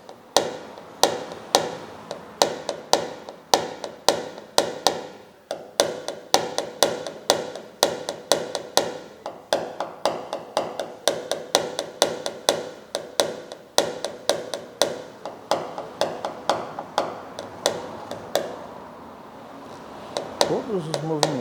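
A hammer taps out a car dent during paintless dent repair, striking in quick, sharp, evenly repeated knocks that continue nearly throughout. Someone talks over the tapping.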